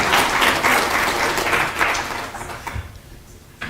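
An audience at a university language policy launch applauds, a dense wash of clapping that runs loud for about two seconds and then thins out and fades.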